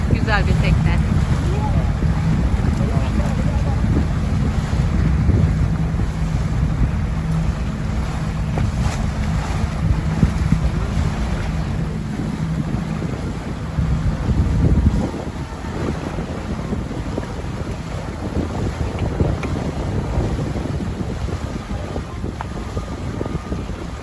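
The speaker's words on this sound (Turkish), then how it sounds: "Karşıdan bir gezi teknesi geliyor." Loud wind buffeting and a low, rumbling tour boat engine over sea noise off Marmaris, with water washing against a hull; the drone eases off about two-thirds through.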